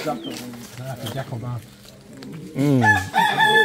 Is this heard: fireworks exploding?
no